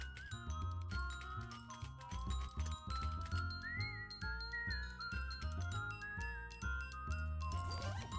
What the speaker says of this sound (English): Very much enjoying the whistling along with this.